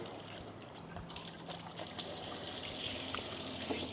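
Chicken is rinsed in a bowl of filtered water during home cooking in Bali, giving a steady close splashing and sloshing of water that grows fuller and louder in the second half.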